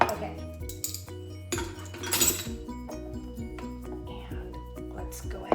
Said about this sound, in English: and just stir that up and get that incorporated.